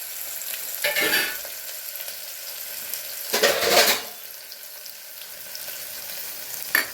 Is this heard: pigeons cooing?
no